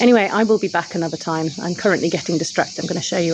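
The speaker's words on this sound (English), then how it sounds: "you can probably hear the crickets behind me." Crickets chirp in a high, steady trill behind someone talking close up.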